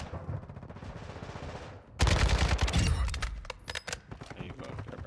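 Automatic gunfire in Call of Duty Warzone 2 erupts after a quieter stretch, a loud close burst of rapid shots followed by scattered single cracks, with faint distant firing beforehand.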